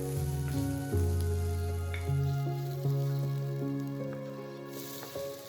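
Green chilli and pandan leaves sizzle in a hot frying pan as they go in, a steady crackle with soft clinks of utensils against the pan and no talk.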